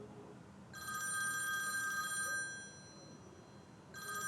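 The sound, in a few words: telephone ringing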